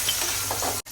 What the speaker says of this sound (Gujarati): મસ્ત વઘાર થાય છે